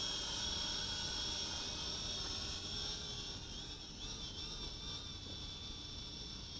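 The XK X300-F FPV drone flies through trees with a steady, high-pitched electric buzz from its propellers, a continuous faint whine that holds even throughout with no voices.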